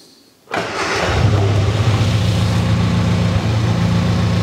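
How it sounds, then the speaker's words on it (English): A car engine cranks briefly and catches, then settles into a steady, rumbling idle close by. "So let me start up the car"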